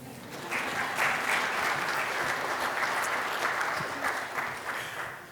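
An audience at a pitch event breaks into sustained applause, a dense wash of clapping that rises quickly, holds steady for several seconds and starts to thin toward the end.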